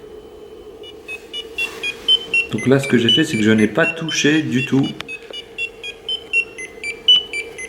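A Sensorwake olfactory alarm clock goes off with repeated bright electronic beeps, close and fairly loud, while a person talks over the middle stretch.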